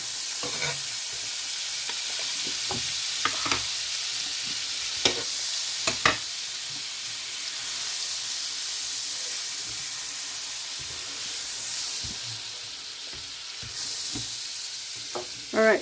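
Butter browning and sizzling in a hot frying pan, a loud steady crackling hiss close by with scattered sharper pops and spits throughout.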